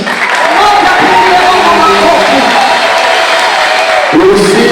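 A church congregation claps and cheers in praise of God, a loud, dense and sustained burst of applause from many people filling the room.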